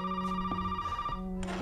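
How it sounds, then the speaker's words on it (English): A telephone rings with a steady electronic bell tone, two short rings close by, heard alone with no talking, in a stick-figure animated parody of the game Resident Evil 7. "well, just answer the phone!"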